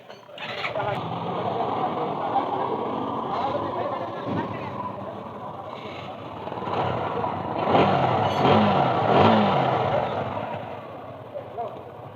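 A motorcycle engine idles steadily on fresh engine oil just after an oil change, a continuous mechanical chug with a brief rev partway through. People talk over it throughout.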